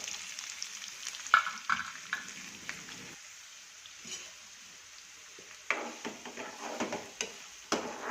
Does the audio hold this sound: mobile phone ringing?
no